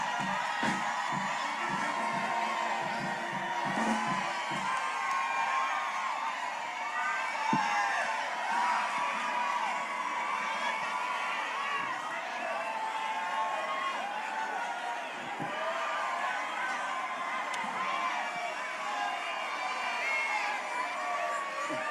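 A large crowd at a New Orleans Mardi Gras pole-greasing event cheers and shouts as items are thrown, a continuous roar of voices and whoops with scattered claps, loud and all around.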